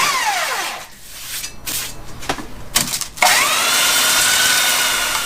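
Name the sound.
sanding mill scale off steel with 24 grit sandpaper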